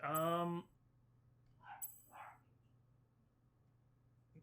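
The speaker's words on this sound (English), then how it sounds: "What is that puppy barking at?" A cartoon puppy in the Henry Stickmin Collection video game barks twice in quick succession, short and fairly soft, after a loud burst of game sound and over a low steady hum.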